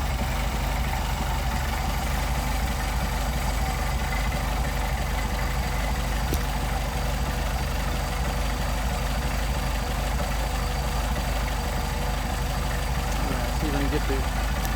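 A Mercedes 190SL fitted with Solex carburettors idles steadily at a low, even rumble, close and continuous throughout, with faint background rustle.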